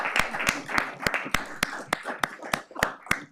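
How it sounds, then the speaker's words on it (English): Slow, evenly spaced claps from a small audience at a city council meeting, about a dozen crisp hand claps at a steady rhythm, fairly close and clear with little else around them. "Give her a big round of applause."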